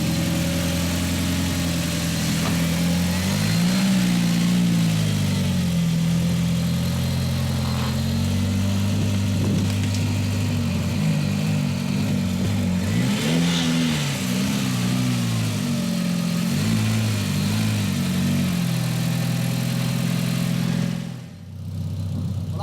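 A Seat Leon's engine, taken from a scrapped Audi A3, runs steadily for a long stretch, rising and falling slightly in pitch as it revs, then cuts off abruptly near the end.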